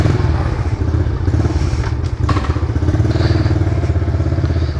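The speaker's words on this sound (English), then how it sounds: "So, I just got a new dirt bike, if you're wondering what it is. It's a KLX 140." Brand new Kawasaki KLX 140 dirt bike, its engine idling close by with a loud steady low putter and a few clattering knocks.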